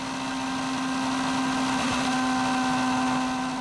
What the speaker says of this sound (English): that does not sound like a car ready to qualify